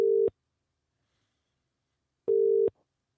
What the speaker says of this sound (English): let's give old Devil a ring.